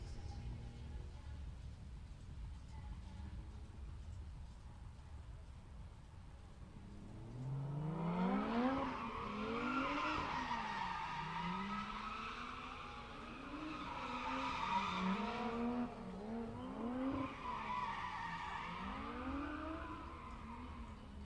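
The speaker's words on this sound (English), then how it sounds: "This thing makes some cool turbo noises" A drift car at a pit test session rises from idle into revving engine sweeps with rising and falling pitch, turbo whistles and tire squeal mixed in, moderately distant and repeating in waves over steady background noise.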